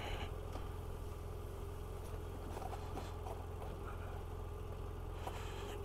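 Motorcycle engine idling steadily as it rolls slowly through sand on a back road near the Franschhoek and Vanderstel passes, a low continuous rumble with wind noise, no talk.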